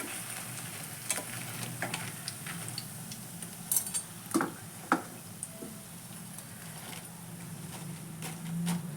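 Bajji fritters fry in hot oil with a soft, continuous sizzle and bubbling. Occasional metal clinks of a utensil against the pan sound close by.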